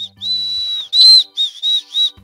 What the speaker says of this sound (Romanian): termină cu fluierul ăla, că mă enervez